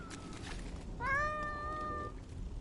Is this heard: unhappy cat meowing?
yes